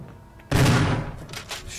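A gunshot cracks out suddenly and loudly in the Resident Evil video game's courtyard, its sharp blast dying away into a brief rumbling echo with a few fainter follow-up sounds.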